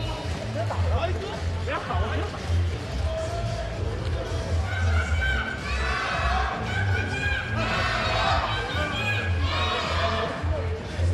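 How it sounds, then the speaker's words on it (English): Chinese fans at a 3x3 basketball game cheer their team in a steady arena roar, with a commentator talking over the crowd noise throughout. "You hear the Chinese fans cheering their team on"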